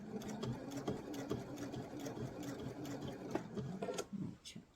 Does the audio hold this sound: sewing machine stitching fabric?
yes